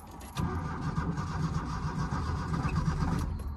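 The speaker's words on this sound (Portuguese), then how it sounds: "Eu vou ligar aqui o carro pra vocês verem o barulho que ele tá fazendo" A car engine turns over in a long steady cranking churn without catching, a rough mid-pitched drone heard close and alone from a vehicle that has been making loud engine noise and now fails to start.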